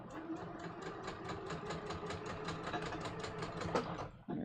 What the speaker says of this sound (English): So I'm literally just gonna sew straight down here.